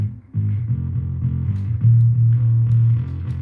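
A low bass guitar line through an Alpha Omega distortion pedal, gritty and distorted, plays a few sustained and short notes, close and clear with no voices.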